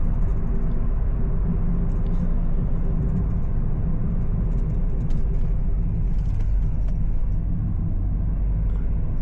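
Steady broadband road rumble from inside a car cruising through Sharafiyah Al Hada in Riyadh, loud and continuous engine and tyre noise with no talking.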